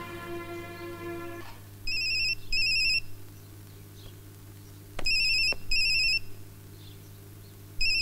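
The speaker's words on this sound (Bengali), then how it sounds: "ফোনটা বাজছে, তুই ধরছিস না" A telephone rings in repeated electronic bursts, paired trilling pulses sounding loud and close with short silent gaps between them, after a brief sustained musical tone at the start.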